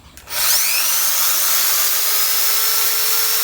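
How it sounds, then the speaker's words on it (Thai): A 220 V mains-powered electric drill on a test run, plugged into an AC outlet of a simple solar setup, starts up abruptly and then whines at a steady, loud, close pitch, with no talk over it. "ตัวนี้เป็นสว่านใช้ไฟ 220 โวลต์เนาะ เดี๋ยวผมจะทดสอบดูนะครับ"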